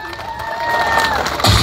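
An audience cheers and claps at a live Kikuyu-language stage show, a crowd roar swelling across the moment with a louder burst of applause near the end, a raised voice carrying over the noise.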